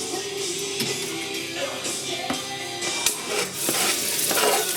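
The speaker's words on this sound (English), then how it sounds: "Now we're gonna fry them." Finely chopped herbs and spices hiss and sizzle in a hot pan for a vegan coconut soup, a steady close frying sound broken by stirring scrapes and clicks.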